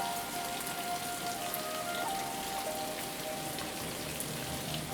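Steady rain falls on a farm, a constant even hiss of drops on surfaces with no pauses, under a faint thin tonal hum.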